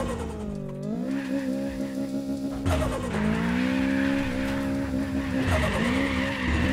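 A turbocharged four-cylinder Toyota Trueno AE86 in a drag-racing video game revs hard in repeated rising pulls. Tire squeal and skidding accompany the engine, which sounds loud and close, with no talking.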